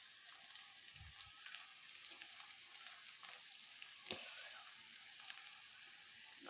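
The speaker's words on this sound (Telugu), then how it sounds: "కొద్దిగా వేగనిచ్చి అల్లం వేస్తున్నానండి" Sliced onions fry in a pan before ginger goes in, a soft steady sizzle with faint crackles and an occasional sharp pop, close and quiet, with no talking.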